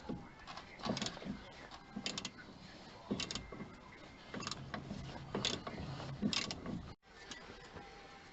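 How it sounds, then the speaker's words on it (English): A ratchet with a 21mm socket works on a damper of a Mercedes SL R230, making quiet, close mechanical clicks and clunks in irregular bursts with some low background noise. "it's a 21mm socket on the end of this"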